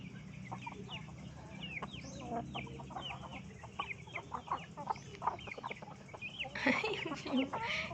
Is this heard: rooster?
yes